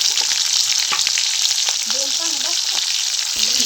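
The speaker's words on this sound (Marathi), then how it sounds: "मोहरी तरतरली पाहिजे. मग त्यात मिरच्या जिरं टाक." Mustard seeds, green chilies, cumin and curry leaves sizzle loudly in hot oil, a dense continuous crackle with sputtering pops, close up, and a faint voice murmurs briefly underneath.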